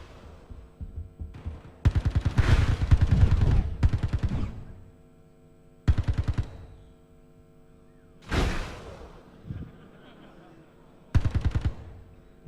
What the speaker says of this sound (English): There you are, it's the electric shotgun.